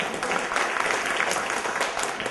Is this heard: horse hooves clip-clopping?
no